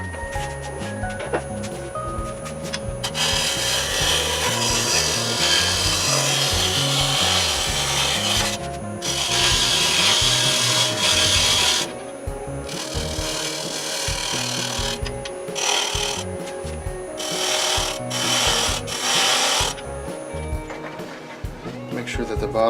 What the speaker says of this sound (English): let me take a spindle gouge and